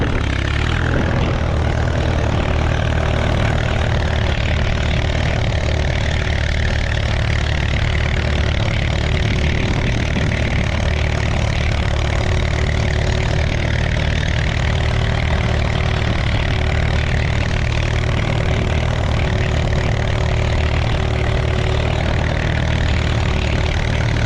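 An Allis-Chalmers WD 45 tractor engine runs steadily while discing a garden, a loud, constant low mechanical drone that holds throughout with no talk.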